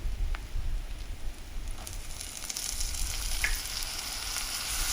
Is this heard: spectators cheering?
no